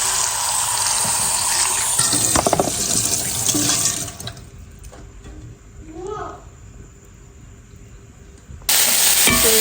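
Fresh coriander leaves are washed under a loud running kitchen tap. The water stops for a few seconds, leaving a quieter stretch with a brief voice, then gushes again at the end.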